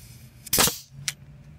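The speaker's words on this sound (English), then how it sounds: "We're gonna shoot a couple finish nails in over here." Nail gun firing finish nails into a wooden concrete footing form: one sharp loud crack, then a second quicker, fainter snap about half a second later.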